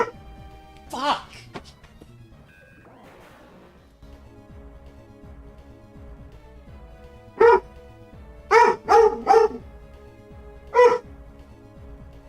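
Holmes, a pet dog, lets out a few barks indoors, one early and then a cluster of three or four sharp barks followed by one more, against a quiet room tone.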